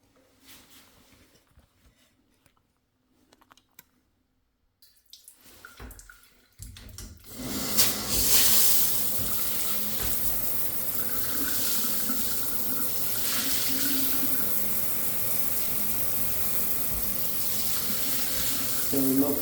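Water running into an unclogged shower drain, a steady loud rushing wash that begins after a quiet stretch and continues evenly to the end.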